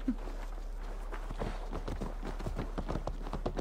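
Horse hooves clip-clop steadily in Assassin's Creed Valhalla, a brisk, even rhythm of fairly close, moderately loud hoofbeats over a low constant background hum.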